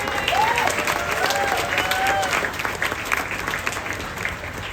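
Steady applause from an audience, many hands clapping continuously at an even level, with a few faint voices mixed in.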